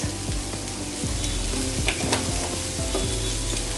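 Pasta sauce ingredients for baked pasta with Alfredo sauce fry in a pan, giving a steady, close sizzle with repeated scraping stirs of a spoon and no talking.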